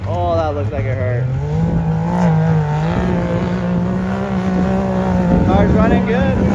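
Loud, steady engine drone from a UTV at a hillside huckfest race, holding a sustained pitch that rises slightly and stays near, with some wind and crowd noise mixed in.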